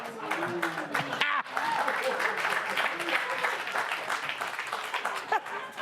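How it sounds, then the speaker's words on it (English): A television studio audience applauds loudly and steadily, with a few cheers and whoops rising over the clapping throughout. "Your applause is like a warm bath."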